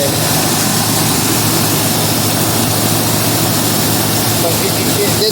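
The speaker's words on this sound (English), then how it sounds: "But there's a miss in this engine." A 1971 Mercury Comet V8 running with a miss, its steady loud engine drone filling the whole stretch close by, with no clear break in the sound.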